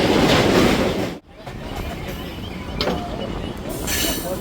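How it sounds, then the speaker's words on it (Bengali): A Howrah to Digha express train pulls out, a steady rumbling wash of rail noise with a few brighter squeals and clacks, close and continuous apart from one brief dip. "হাওড়া টু দীঘা এক্সপ্রেস ছেড়ে যাচ্ছে"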